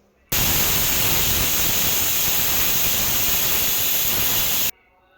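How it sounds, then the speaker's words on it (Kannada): A pressure cooker of spinach pulao lets off steam in a loud, steady hiss that starts abruptly, holds for about four seconds and cuts off sharply. "ಲಿಡ್ನ ಕ್ಲೋಸ್ ಮಾಡಿಬಿಟ್ಟು 2 ವಿಷಲ್"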